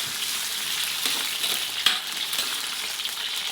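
Potatoes fry in a pan with a steady, fairly quiet sizzle and crackle, and a few faint clicks and stirs come through, with no talking.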